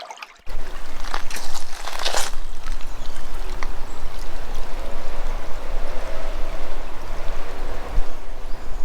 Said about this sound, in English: the river has flowed around this patch of ground here and created an island